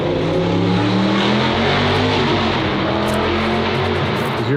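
A McLaren 720S GTR race car roars loudly and constantly at close range, its dense engine drone holding steady throughout without any break.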